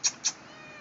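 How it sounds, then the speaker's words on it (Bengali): A young kitten gives two quick, close, high meows in the first third of a second, then falls quiet over a faint room hiss. "বিড়াল, তোকে তো দেখে বাচ্চা মনে হচ্ছে রে।"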